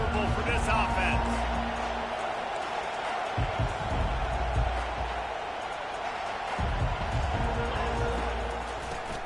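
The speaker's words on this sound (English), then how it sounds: "This crowd trying to make life miserable for this offense." A football stadium crowd roars steadily and loudly, making noise against the offense, while an announcer talks over it throughout.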